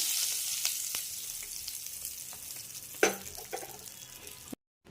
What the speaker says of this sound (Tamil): எல்லாம் நல்லா பொரிஞ்சோட தாளிப்பை நம்ம அரைச்ச மிளகில் சேர்த்துக்கலாம்